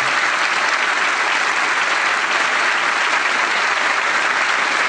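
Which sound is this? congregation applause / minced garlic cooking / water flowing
congregation applause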